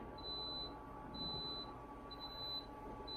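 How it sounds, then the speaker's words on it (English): A Victron battery monitor display sounds a low voltage alarm, a high electronic beep repeating at steady intervals, each tone lasting about half a second, over a constant low hum and background noise. "that beeping is the Victron display beeping for that low voltage alarm"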